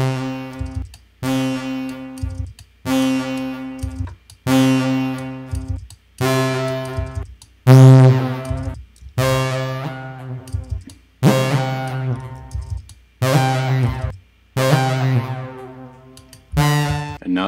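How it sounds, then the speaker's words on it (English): A synthesizer's repeated harmonic note plays through a comb filter whose mix is slowly raised, about ten evenly spaced loud bursts with short gaps between them, growing more resonant and metallic across the passage. "with a filter, and I'll slowly increase the mix so you can hear what it does"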